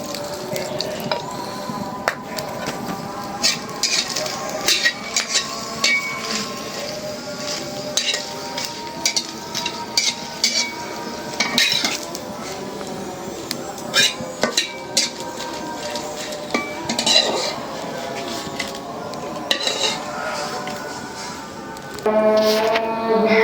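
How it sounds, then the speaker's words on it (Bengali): Dry red chillies are tossed in a kadai with a little oil, giving repeated metallic scrapes and clinks of a spatula against the pan over a soft sizzle, close and busy throughout. "ভর্তা বানানোর জন্য শুকনা মরিচ ভাজে নিতেছি শুকনা কড়াইতে ভাইজে নিলাম এখন একটু তেল দিয়ে দেবো"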